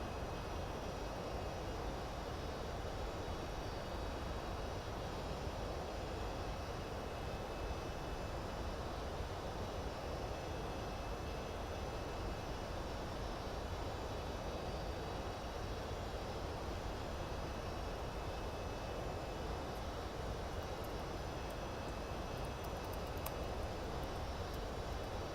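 Steady, droning airplane engine hum from the X-Plane 10 flight simulator, loud and continuous throughout with no breaks or talking.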